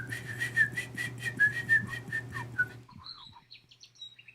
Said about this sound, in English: I swear I heard birds in the back.